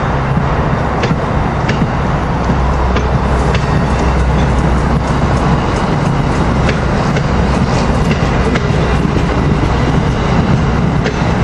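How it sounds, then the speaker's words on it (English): An Amtrak ACS-64 electric locomotive, number 612, hauls Northeast Regional train 193 southbound past Cornwells Heights, producing a loud, continuous close-up roar of rolling cars with faint rhythmic clicks, and no talk. "ACS 64 number 612 is leading Northeast Regional Train 193 south to Philadelphia from New York"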